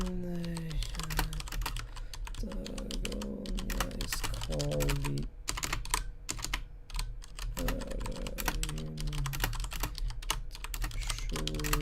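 Quick clicks of typing on a computer keyboard, close and steady, with short pauses between bursts, over soft background music, with someone speaking now and then.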